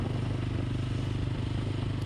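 A motorbike ridden at night through cold, misty air gives a steady, close engine drone that holds evenly from start to end.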